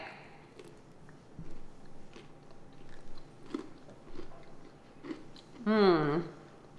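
Someone bites into and chews herb roasted nuts seasoned with cayenne, giving a series of close, soft crunches spread unevenly over several seconds, ending in a louder burst near the end, with little other sound.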